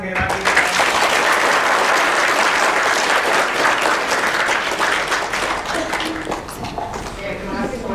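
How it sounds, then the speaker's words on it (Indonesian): An audience at a motivational talk event in Indonesia breaks into loud, sustained applause that fills the hall for several seconds before gradually thinning. "Tepuk tangan sekali lagi."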